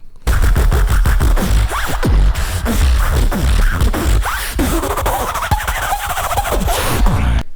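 Beatboxer at a Grand Beatbox Battle performs a loud, rapid run of sharp clicks, crackles and raspy zipper-like scrapes with the mouth, a dense percussive vocal imitation of a zipper.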